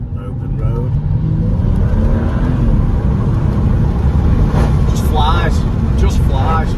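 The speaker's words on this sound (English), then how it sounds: "You got rumbles, bob bob bob bob bob bob." A BMW F32 435i accelerates hard on an open road, its engine revving with a loud, continuous rumbling roar close by, while a voice is briefly heard over it.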